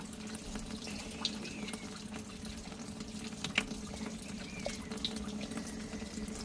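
Tap water running while a rock tumbler barrel is washed out, a steady splashing flow with occasional sharp clinks and drips, moderately close, with no talk.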